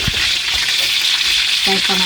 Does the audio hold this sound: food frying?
yes